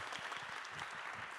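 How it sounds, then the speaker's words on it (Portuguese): A live audience claps briefly at a true-crime podcast event, a soft, steady patter of many hands heard from some distance. "Pode aplaudir, gente, eu vi que vocês começaram."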